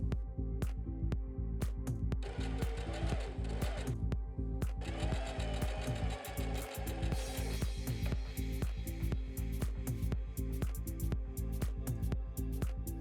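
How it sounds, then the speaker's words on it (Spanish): A sewing machine stitches fabric onto the front of a wrap blouse made from a fabric remnant, running in a rapid, steady mechanical clatter with short stops and restarts throughout. "Ahora voy a coser al delantero así como hicimos con los amarres."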